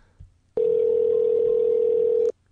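A single recorded telephone tone sounds as one steady, loud, pure hum held for nearly two seconds, cutting in and out sharply after a faint thump.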